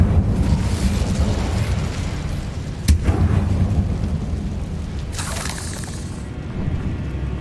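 In Hogwarts Legacy, an Incendio fire spell blows up a barricade: a loud rumbling roar with one sharp crack partway through, then a hissing burst as the blast fades, with no one talking.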